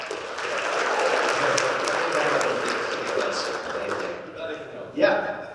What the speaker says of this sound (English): Big round of applause for George.